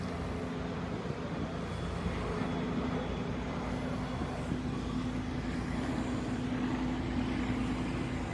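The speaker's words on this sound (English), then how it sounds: "See the helicopter up in the air?" A helicopter flies overhead during a police patrol, heard as a steady, continuous engine drone with a constant low hum and no clear rotor pulsing, with no talking.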